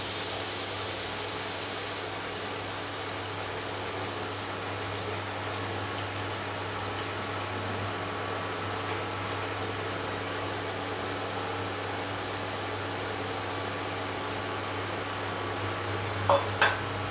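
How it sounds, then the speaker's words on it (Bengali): A ladle of batter dropped into hot oil fries with a steady, even sizzling hiss close by, continuing unbroken, with a couple of small clicks near the end and no speech. "আরও একটা ব্যাটার 1 হাতা ব্যাটার নিয়ে আমি তেলের মধ্যে দিয়ে দিচ্ছি।"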